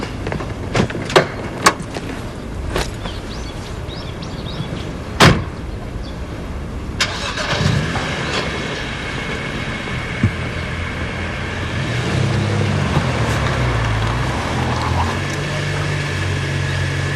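A car door thuds, then an engine starts and the car pulls away, its motor settling into a steady drone under road and cabin noise.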